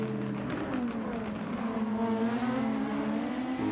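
A Super Formula race car in Gran Turismo 7 accelerates out of Murray's Corner onto the main straight at Bathurst, its engine note climbing steadily through the gears, loud and continuous with no voices.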